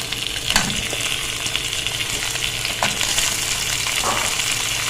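Mutton pieces frying in a karahi for karahi gosht, a dense, even sizzle close up with faint stirring scrapes every second or so.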